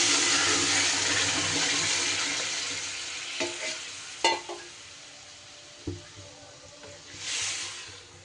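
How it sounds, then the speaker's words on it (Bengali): Boiled dal is poured into a pan of fried spices with a splashing gush that fades into a soft simmering hiss, followed by a few clinks and scrapes of stirring. "মশলার সাথে খুব সুন্দর করে ডাল আমি মিশিয়ে দেব"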